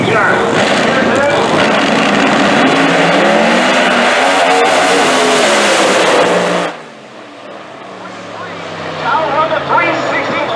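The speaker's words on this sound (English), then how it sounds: "This is going to be one hell of a drag race right here, first round." Drag race cars launch loudly at Orlando Speed World Dragway, a dense engine roar sweeping up for about six seconds before cutting off sharply, then another engine rises again in the distance.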